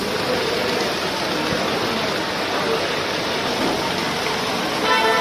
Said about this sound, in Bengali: ওরে বৃষ্টি আর কিভাবে পড়তেছে দেখেন, ছাদ থেকে পানি